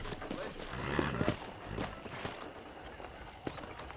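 Horse hooves clip-clopping in the Red Dead Redemption PC video game, a few irregular soft thuds at moderate distance over faint background noise, with a voice partly under them.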